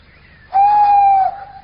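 A human voice imitates an owl's hoot as a signal, giving one loud, sustained, tonal hoo note that holds steady for under a second before trailing off, close and alone against a quiet background.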